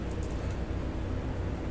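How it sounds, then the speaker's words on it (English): Gentle rain falling as heard from a boat tied off in Houston as a storm begins, a steady soft hiss with a low rumble of wind underneath, no voices. "And it's raining. Nice. Gentle rain, if you want to call it that."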